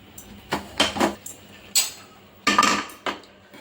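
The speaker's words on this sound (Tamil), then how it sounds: "குக்கர் ஓப்பன் பண்ணி பார்த்துடலாம்." Metal clanks and clinks from a pressure cooker lid being worked open in a home kitchen, after cooking dal for radish sambar: several sharp, close knocks and rattles spaced irregularly, no voices.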